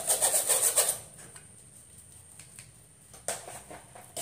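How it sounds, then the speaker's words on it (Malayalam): Flour mixed with milk powder is sifted through a sieve for an easy cake, giving a close, rasping rub with a soft patter for about a second, then only faint scattered taps and a brief scrape near the end. "പാൽപ്പൊടിയും കൂടി ചേർത്ത് ഒന്നും കൂടെ അരിച്ചെടുക്കട്ടെ."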